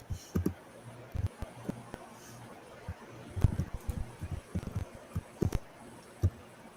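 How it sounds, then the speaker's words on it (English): Keyboard keystrokes come through a livestream as sparse, uneven clicks and taps, some in quick bursts, fairly faint over a quiet background with muffled broken speech at times. "You can't hear him talk worth shit, but you can hear every single one of his keystrokes."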